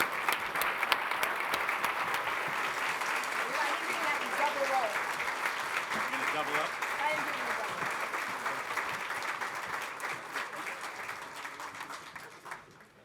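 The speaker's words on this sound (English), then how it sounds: "So if you guys will give these guys all a round of applause," An audience at an expert panel on emerging technologies gives a sustained round of applause, dense steady clapping from many hands that fades out at the end.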